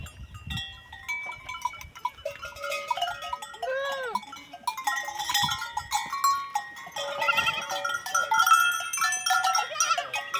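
A herd of goats bleats repeatedly as they are driven from farm fields into the caatinga scrubland, their wavering calls overlapping with the busy clanking of cowbells that grows denser and louder toward the end.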